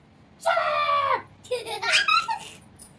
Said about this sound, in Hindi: हाँ बहुत चिल्लाती है यार ये